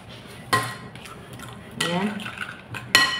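Dry yeast being stirred into a bowl with a utensil, with clinks and scraping against the bowl, two sharper knocks, and someone speaking in between.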